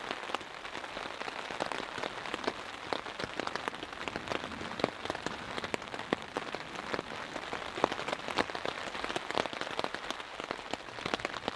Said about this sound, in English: It's been raining all night long since roughly 11 p.m. It's a good solid rain.